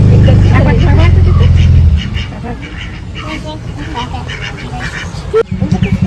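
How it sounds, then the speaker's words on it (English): Ducks quack on a backwater near a bridge in Alleppey, Kerala, heard as a few calls under a loud, steady houseboat engine drone that drops partway through, with a voice speaking over it. "Ducks"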